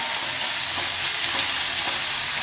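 Chopped garlic and small shallots frying in oil in a pan for a Tamil cabbage poriyal, a loud, continuous close sizzle with crackling spatter and no voices.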